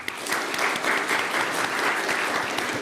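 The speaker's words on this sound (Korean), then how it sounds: "우리 박수로 한번 응원하겠습니다" A church congregation at a Sunday worship service claps together in steady, dense applause, loud and close throughout.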